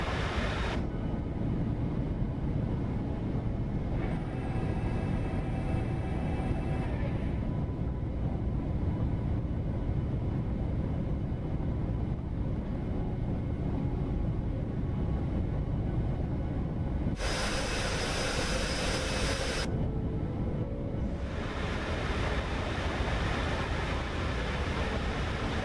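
Steady, loud engine drone from an iFly 737 MAX8 airliner in Microsoft Flight Simulator 2024, a continuous broadband roar with low rumble that persists throughout, with brief shifts in the high whine partway through.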